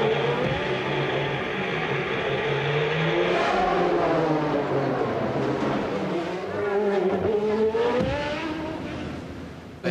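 Race cars at the Monaco Grand Prix roar past a street-circuit corner, engines wailing and shifting pitch as they accelerate through, loud and continuous with overlapping passes.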